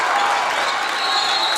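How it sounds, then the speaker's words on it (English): Spectators at a school basketball game between the Gregory Gorillas and Winner Warriors cheer and clap in a brief, loud burst of crowd noise that stays dense and continuous. "And the crowd's making some noise now."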